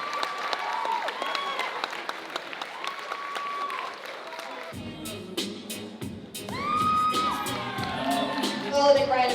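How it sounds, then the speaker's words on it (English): An audience at a Granite City 2023 event bursts into loud applause with cheers and whoops. The sound swells, dips, then rises again with shouts mixed into the clapping. "A big round of applause."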